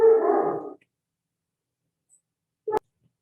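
A dog gives a single whimpering bark-like cry at close range, then silence before a brief sharp knock near the end.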